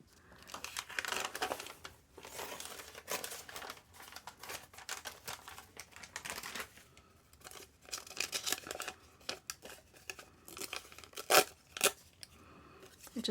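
Scissors cutting out paper vintage-style labels, with soft, quiet snipping and crinkling paper rustles in an irregular rhythm, close and alone without talk.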